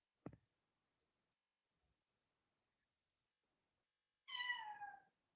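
A pet cat indoors gives a single drawn-out, wavering meow near the end, fairly close, after a short knock and a long quiet stretch.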